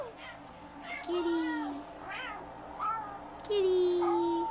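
A cat meows several times, drawn-out rising and falling calls close by, with a person speaking softly between them.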